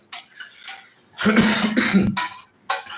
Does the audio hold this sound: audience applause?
no